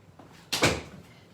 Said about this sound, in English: I don't know why you don't close that door.